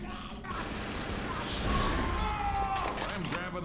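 A gasoline can is shot in Left 4 Dead, on the No Mercy subway level, and a dense, sustained roar of fire and gunfire fills the scene with a loud swell near the middle.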